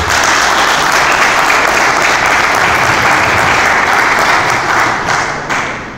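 Loud, sustained audience applause at a Brazilian thesis presentation, with thick, even clapping filling the room for six seconds before starting to thin out near the end.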